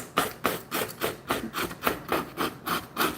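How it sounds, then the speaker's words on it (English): A nail file rasps along the edge of patterned craft paper in quick, even back-and-forth strokes, about three per second, close up and with no voices. "the nail file actually cuts that DSP off"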